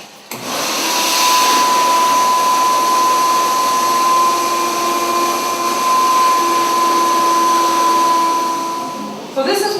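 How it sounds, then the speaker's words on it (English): A wet vac vacuum cleaner starts up and runs loudly and steadily at close range with a constant whine, then cuts off near the end. "I'll turn on the wet vac. Turn on the vacuum cleaner."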